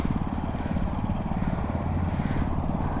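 A small mini bike engine runs at half throttle with a steady, buzzing, rattling putter, fairly loud and close, continuous throughout with no voices.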